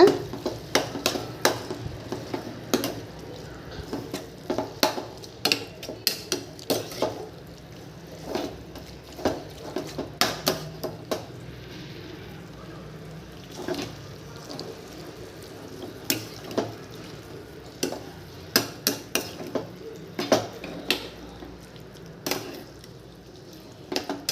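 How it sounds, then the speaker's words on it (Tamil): A spoon scrapes and clinks steadily around a pan as chili powder and turmeric are stirred into a prawn and ground-spinach gravy, with a low simmer underneath and no voices. "மிளகாய்த்தூள் போட்டு நல்லா கிண்டிக்கோங்க"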